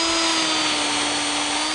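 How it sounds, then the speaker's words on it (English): A power drill boring holes in a wooden dining table to mount skirt washers, running as a steady, close, loud whine at constant speed throughout the short stretch. "Now I need to drill and mount these skirt washers"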